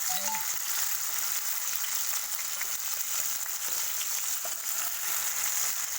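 Drumstick pieces sizzling steadily in hot oil for a pickle, a dense continuous frying hiss that stays close and loud throughout with no talk over it.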